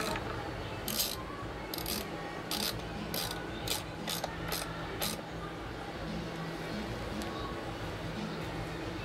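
Repeated short ratchet clicks from a wrench working on the exhaust bolts of a 1962 18 HP Johnson outboard motor come in quick bursts in the first half, close and fairly crisp over a steady background hum.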